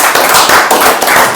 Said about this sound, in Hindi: एक बार जोरदार तालियां मैं